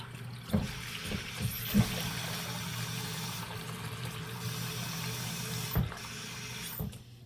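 Tap water runs at a kitchen sink to fill a bowl for veggie soup, a steady close rush of flow broken by a few sharp knocks and clinks of the bowl.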